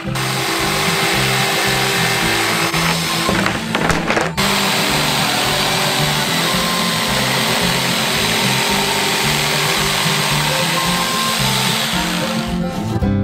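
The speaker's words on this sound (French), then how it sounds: "Il reste à la découper avec une scie sauteuse électrique." An electric jigsaw runs loudly and continuously, its motor buzzing with a rapid chattering cut, briefly pausing then resuming.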